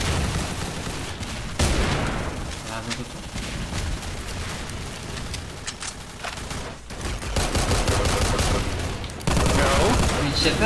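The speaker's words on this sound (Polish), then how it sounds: "Ja tam strzelam, po prostu strzelam w niego." Rapid gunfire and rocket launches from a shooter video game, with near-continuous loud bursts and repeated shots layered across the whole stretch, swelling louder toward the end.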